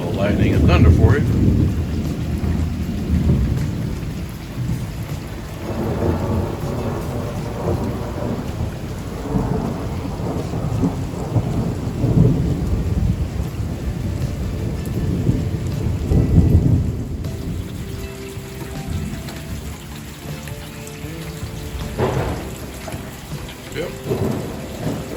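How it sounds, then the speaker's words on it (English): Thunder rolls and rain pours steadily during a Florida thunderstorm, loud and close at first, then easing to a softer patter with a single brief spoken word. "Lightning and thunder for you."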